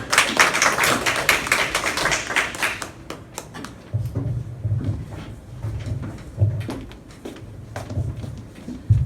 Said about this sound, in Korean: 우리 박재순 팀장님께도 큰 박수 부탁드립니다